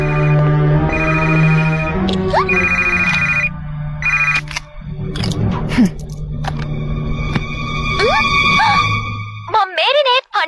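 A phone rings while calling Marinette, giving repeated electronic ringtone bursts in a steady pattern, loud and close. Voices and animated-show sound effects run under and between the rings.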